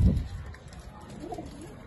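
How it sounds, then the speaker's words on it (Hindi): A Kasuri breed pigeon cooing up close, a short low throaty coo followed by softer murmuring calls in a quiet loft. "कमाल का कबूतर माशाल्लाह जी"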